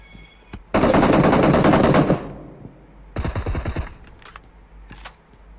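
Automatic gunfire in the mobile battle-royale game PUBG Mobile: one long loud burst of rapid shots, a short pause, then a second shorter burst, with faint scattered clicks around them.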